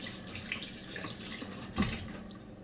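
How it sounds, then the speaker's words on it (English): Running tap water pours into a sink as hands are rinsed under it, a steady close splashing hiss with one brief louder splash near the end. "Rinse my hands off."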